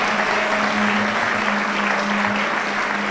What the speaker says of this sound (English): I think we can clap better.